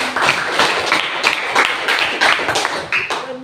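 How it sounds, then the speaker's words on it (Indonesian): Classroom applause from a secondary school class after a student's presentation, a dense, steady patter of many hands clapping close by for several seconds with uneven bursts of louder claps. "Oke, tepuk tangan."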